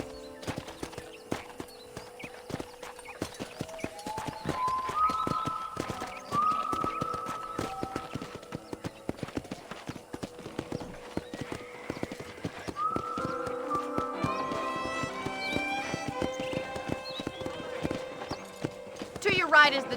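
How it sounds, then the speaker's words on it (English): Steady clip-clop of horse hooves in the Red Dead Redemption video game, walking rhythmically throughout with an occasional whinny, under background music and talk. "I picked out a fine horse for you."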